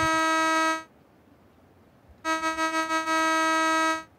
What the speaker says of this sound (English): All right, I'm gonna honk.